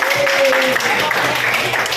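Group applause rings through a teacher-led learning session, a busy, continuous clatter of hands with a voice or two calling out briefly above it.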